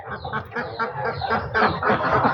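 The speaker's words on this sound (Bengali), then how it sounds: "দেশি হাঁস একটু নরম করে দিলে ভালোভাবে খায়" Native country ducks quack in quick, repeated bursts while eating softened feed. The calls are close and moderately loud, with several overlapping calls in an uneven rhythm.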